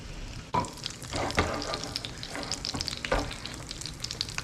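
Pork katsu cutlets fry in hot oil, a steady crackling sizzle with sharper bursts as pieces are dropped in and turned, close and fairly loud throughout.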